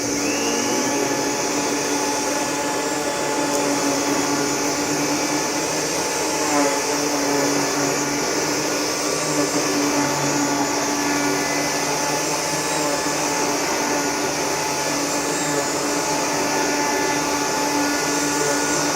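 A Rainbow E2 vacuum cleaner runs steadily with a whirring motor and power brush hum, fairly quiet and continuous throughout, with no talking.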